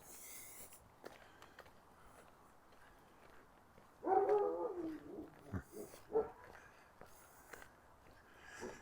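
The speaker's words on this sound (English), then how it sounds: "Some dog having a few comments about my passage." A dog barks somewhere along a street or alley during an evening walk in Regina, a short cluster of faint, distant barks rising over quiet outdoor ambience with no talking.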